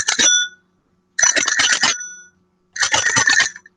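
A telephone rings in three loud, close bursts of bright trilling bell tones, each about a second long and separated by silences, with no talk.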